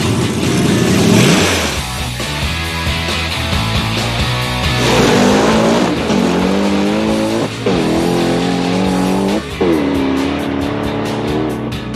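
A hot rod drag car makes a full pass down the track, its engine roaring loud and rising through several gear shifts, with brief tire squeal at the launch and no talking.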